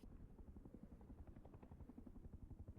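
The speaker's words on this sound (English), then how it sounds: "Can hear a helicopter in the distance as well." A helicopter in the game Rust thuds steadily at a distance, its rotor beating in a quick, even rhythm that stays faint but unbroken throughout.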